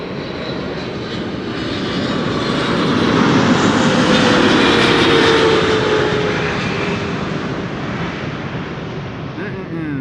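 A Boeing 777-300 at Amsterdam Schiphol roars past with a loud, broad jet-engine rush that swells to a peak midway and slowly eases, with a faint whine riding the sustained noise.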